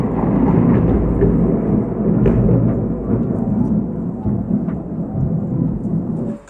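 Heavy rain pours steadily during a night storm, with deep rolling thunder rumbling low and continuous across the whole stretch, loud and close.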